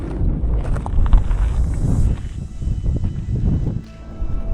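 Steady wind buffeting a microphone outdoors on a volcano summit in Sicily, a low rumbling roar with gusts that swell and ease throughout.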